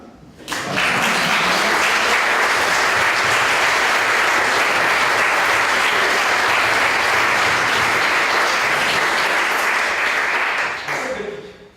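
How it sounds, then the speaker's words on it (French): A seated audience breaks into loud, sustained applause after a card magic trick during an innovation talk. The clapping swells in quickly, holds strong and even for about ten seconds, then tapers off. "je ne sais pas qui vous avez applaudi"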